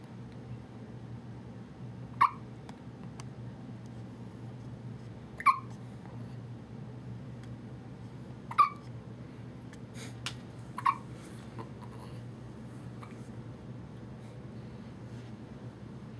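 Tiny hiccups from a 2½-week-old infant, five soft, quick catches of breath with the last two nearly back to back, close up against a quiet hum.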